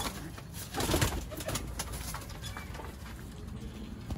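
Pigeons coo near and at moderate volume among birds kept for sale in Sialkot, with repeated soft calls and some rustling and flutter over a steady background.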